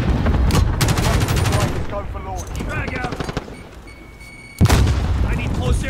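An RPG-7 rocket in a shooter video game goes off with a sharp heavy boom near the end, after bursts of gunfire, while voices talk over the firing.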